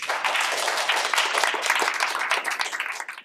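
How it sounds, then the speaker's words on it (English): Audience applause for Dr. Moon at a student and teacher gathering, dense steady clapping from a crowd that fades out at the end. "Please join us in applause for Dr."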